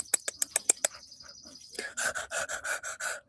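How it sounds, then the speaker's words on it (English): Birds chirp outdoors in a quiet setting, a quick run of sharp high chirps followed by softer calls and then a denser, fuller burst of song at moderate distance. "All I can hear is the birds and Winnie."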